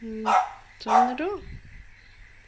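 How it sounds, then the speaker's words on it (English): Two loud, close dog barks in quick succession, followed by a brief whiny yelp, with a voice speaking over them. "Excuse the dogs barking."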